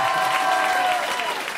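Short burst of audience applause for François Descraques during a comedy show taping, dense crowd clapping with a faint tonal note running beneath it.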